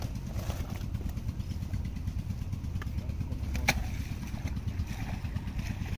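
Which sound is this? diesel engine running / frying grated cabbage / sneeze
diesel engine running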